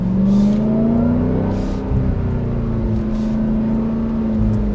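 A 2021 Dodge Durango SRT Hellcat SUV engine hums steadily with a rising high-pitched supercharger whine, loud and close, holding a sustained drone throughout.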